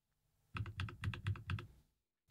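Typing on a NovelKeys NK65 RFP Edition mechanical keyboard, fresh out of the box: a quick burst of about a dozen clacky keystrokes in uneven pairs, close and clear against a quiet room, then silence.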